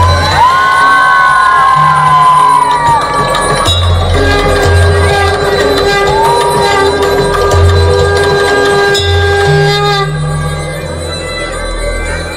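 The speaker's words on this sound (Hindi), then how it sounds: "एक बार ताली बजाने के बच्चों के लिए चिल्ला लो दीजिए।" A crowd at a Ganesh Chaturthi festival cheers loudly for a children's performance, with whoops, yells and shouting children in a continuous roar, some whistles, and a few bangs scattered through.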